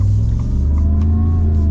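Supercharged V8 of a 2025 Ford F-150 Black Widow, a deep, loud, close rumble as the engine revs briefly and holds.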